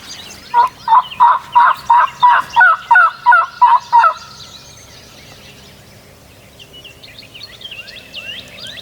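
A wild Merriam's turkey in Montana gobbles in a rapid burst of about ten loud, close pulses, followed by quieter distant calls and bird chatter.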